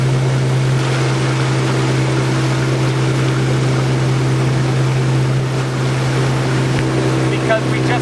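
A 1957 Evinrude Fleetwin 7.5 outboard motor drives a boat at planing speed near Tampa, giving a loud, steady droning hum with water and wind noise mixed in.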